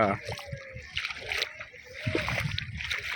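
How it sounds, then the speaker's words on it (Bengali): Bare feet slosh and splash in cold river water at the shallow edge, with soft irregular splashes under nearby voices. "তো আমরা এখন পাটা ভালোভাবে গুছিয়ে নিয়েছি, নিয়ে এরপরে নদীতে পা দেবো।"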